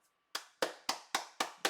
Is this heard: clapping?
yes